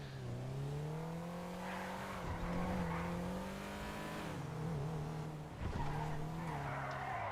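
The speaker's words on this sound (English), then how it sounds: "Oh, slidey noises." Tires squeal and skid as a big Bentley slides through a J-turn in a GTA game, a long whining screech with a revving engine wavering underneath, faint and sustained with a brief thump near the end.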